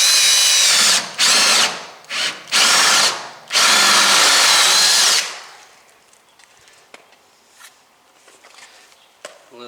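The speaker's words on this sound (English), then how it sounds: "drill a hole for the deadbolt itself" A power drill bores a deadbolt hole through a door in several loud, whining bursts of increasing length, then goes quiet, followed by faint handling clicks and rustles.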